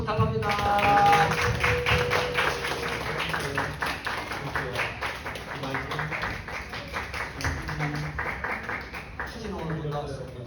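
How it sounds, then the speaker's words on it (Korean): A room of teenagers at a church youth service claps together, a quick rhythmic burst of hand claps that starts loud and continues steadily, with voices talking over and around it. "박수 부탁합니다."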